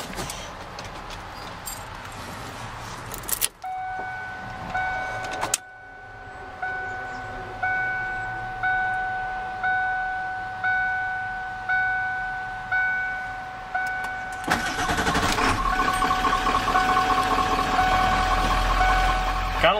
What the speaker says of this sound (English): Now let's give a startup of the diesel.